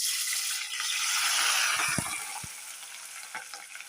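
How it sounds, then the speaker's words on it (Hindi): Two large onions frying in a pan for a beef kofta gravy, a steady broadband sizzle with a few soft knocks of stirring partway through, close and fairly loud, no voices. "पहले हम इसका ग्रेवी के लिए प्याज फ्राई करेंगे।"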